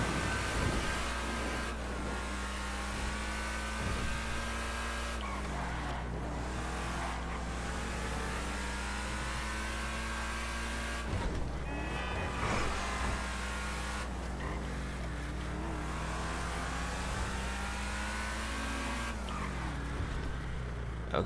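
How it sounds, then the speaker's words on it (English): Benefactor LM87 race car with a V8 engine in GTA 5, revving hard through repeated upshifts with rising pitch sweeps, a high racing-transmission whine over the engine note, loud and close with no talking. "high-pitched whining sound you hear is actually not a supercharger, but rather the racing transmission."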